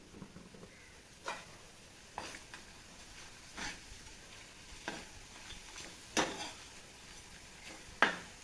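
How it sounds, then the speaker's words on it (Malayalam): Maggi noodles fry in hot oil as a home evening snack, a faint, steady sizzle broken by roughly seven soft scraping stirs from a utensil in the pan, with no talk. "ഇനി നമ്മൾ നമ്മുടെ മാഗിയാണ് ഫ്രൈ ചെയ്തെടുക്കാൻ പോകുന്നത്."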